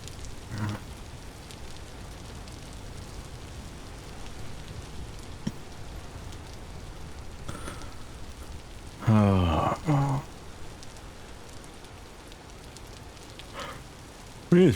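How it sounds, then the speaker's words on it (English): Heavy rain in the game Vintage Story, a steady broadband wash running throughout with brief louder bursts, under occasional speech. "It is raining so much."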